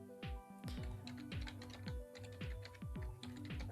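Someone types a terminal command on a computer keyboard, a steady run of quick, close key clicks with short pauses between bursts, no voices.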